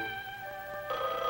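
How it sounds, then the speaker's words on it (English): An office telephone rings in a 1971 business setting, a sustained bright electronic tone that swells louder partway through, alone without talk. "even in this crisis, Miss Bronson lets the phone ring only twice."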